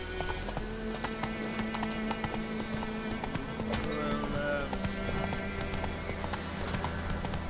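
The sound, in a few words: horse galloping, from video game The Witcher 3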